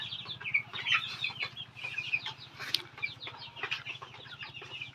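Hens cluck and chatter in short, scattered bursts at a small farm of Tiger chickens, fairly quiet and close, with a brief wing flap and a low steady hum underneath.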